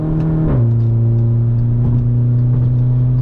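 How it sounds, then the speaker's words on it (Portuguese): Engine of a VW Jetta with the 2.0 TSI motor revving loudly with a deep exhaust roar, pitch dropping and then holding a steady low drone, close and continuous with no talk. "Enquanto isso, vamos acelerando."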